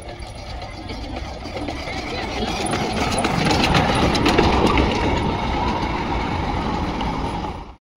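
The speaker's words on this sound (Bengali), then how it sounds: "বেরোতে যখনই যাব দেখি একটা টয় ট্রেন ঢুকছে" Darjeeling toy train rolling into the Batasia Loop, a steady mechanical rattle and clatter of narrow-gauge wheels and couplings on track, fairly close and continuous, swelling slightly in the middle before cutting off abruptly.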